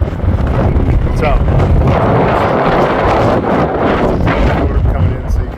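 Loud, blustery wind in Washington DC pounds the microphone with a steady deep roar and rushing gusts that stay close and continuous, with faint voices buried beneath.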